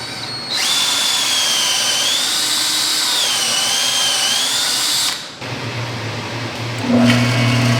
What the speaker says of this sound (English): Okay, now to drill the deep holes.